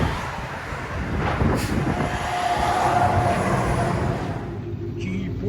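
A 1989 Jeep Grand Wagoneer fitted with a Chevy V8 exhaust and resonator gives a loud, steady, broadband exhaust rumble that holds throughout and fades slightly near the end.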